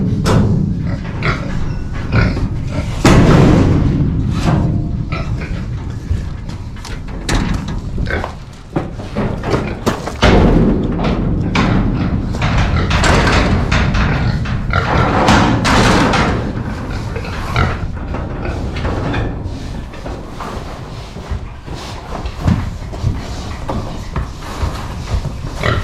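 Pigs in a pen grunt and oink loudly and close by, with frequent thumps and knocks from bodies bumping the enclosure, a busy, continuous commotion without talk.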